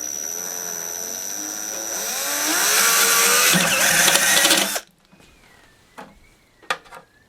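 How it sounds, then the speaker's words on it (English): A power drill with a stepped bit bores out a widening hole for a portable solar generator build, a steady high whine rising for nearly five seconds before cutting off, followed by a few short clicks and scrapes. "this is a step-up drill, so you just go until it's as big as you want"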